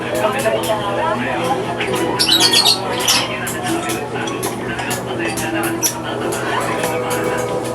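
A young parrot chick with splayed legs squawks in a rapid, shrill series of cries, loud and close, sometimes overlapping, over a steady background hum.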